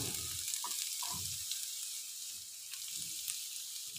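Chopped onion goes into a pan with chopped garlic and fries with a soft, even hiss, fairly faint. A few dull low knocks of handling sound in the first half.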